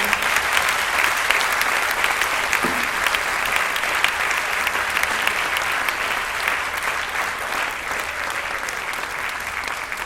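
An audience at a prize ceremony applauds the winners, steady dense clapping that fills the room for the whole stretch, loud and continuous without letting up.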